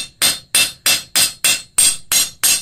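A blacksmith's hammer planishes hot steel at a dull red to black heat, eight crisp ringing blows struck at a steady, even rhythm, loud and close with no talk.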